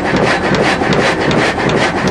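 An old sawmill saw at the Jagersäge on the Gampenpass rasps steadily through wood, a loud, continuous grinding cut with a faint rhythmic pulse, close by and alone.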